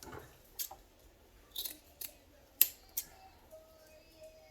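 Scissors snipping through burlap, with about five crisp separate cuts spaced unevenly, close and fairly quiet against a hushed background.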